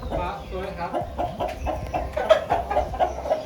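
Several large chickens, each around five kilograms, clucking nearby in a repeated, uneven series of short calls, with faint background sounds underneath.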